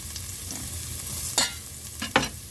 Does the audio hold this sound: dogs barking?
no